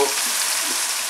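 Red chili powder going into a lamb karahi that keeps up a steady, loud oil sizzle and frying hiss close by, with no talking.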